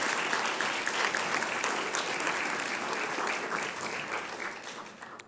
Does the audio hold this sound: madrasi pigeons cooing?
no